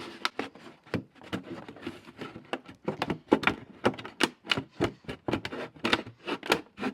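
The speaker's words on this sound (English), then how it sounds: "And then I'm just going to cut all the way around." Scissors or a blade cutting all the way around a plastic container being prepared for winter sowing seeds, a quick run of close, crisp snips and crunches with uneven rhythm, heard alone.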